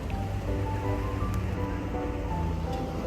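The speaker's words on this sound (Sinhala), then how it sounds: "මේක තමයි වෙනීසියා මැද්දෙන් යන ග්‍රෑන්ඩ් කැනල් එක." Water on the Grand Canal in Venice washes and laps in a continuous broad rush, with a steady low rumble and faint tonal hums like passing boat engines underneath.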